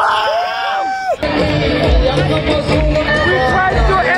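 A large crowd at a Kut festival in Churachandpur, Manipur, roars with cheers and excited chatter, a loud dense wash of voices with whoops rising over the din.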